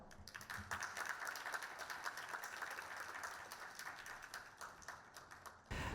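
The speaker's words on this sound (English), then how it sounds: "Please welcome him with a warm round of applause." Applause greets a speaker at a leadership talk, with scattered claps rattling sparsely and faintly through the room before a louder sound breaks in at the very end.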